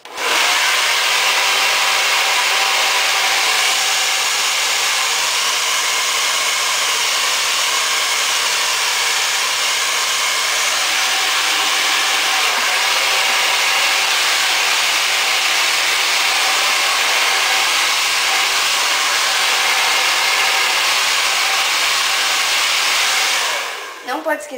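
A hair dryer blows steadily and loudly for about 24 seconds while drying hair at the roots and ends for a fringe styling, with no talking, cutting off abruptly near the end.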